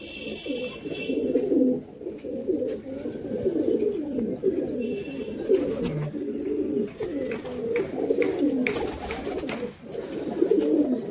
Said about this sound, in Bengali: এটা একটা ফকির কোচ জাতের একটা কবুতর